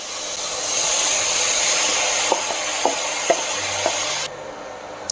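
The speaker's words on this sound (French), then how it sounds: "l'huile est chaude, je viens faire saisir ma poitrine fumée" Smoked pork belly searing in hot oil in a pan, a loud steady sizzling hiss with a few soft clicks of stirring, then the sizzle drops sharply near the end; no talking.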